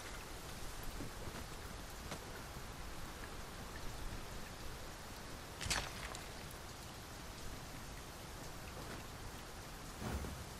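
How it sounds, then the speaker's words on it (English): Heavy rain falling in the video game Dragon's Dogma 2, a dense, continuous hiss of downpour with occasional louder spatters, steady and close with no voices. "It is raining most heavily."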